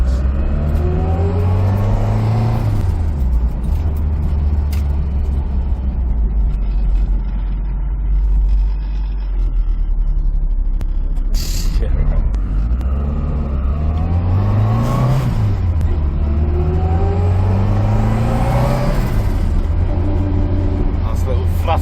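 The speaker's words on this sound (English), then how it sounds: "Nice little flutter from the wastegate." A tuned Cosworth engine in a car revs up and down repeatedly with rising and falling tones, fluttering between revs, loud and close throughout, with people talking over it at times.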